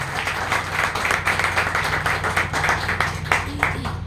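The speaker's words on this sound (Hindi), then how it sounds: "वो एक बार जोरदार ताली होना चाहिए।" Applause from an audience at a community open mic night for poetry and songs: a sustained run of clapping over a low steady hum, with a few sharper claps standing out near the end.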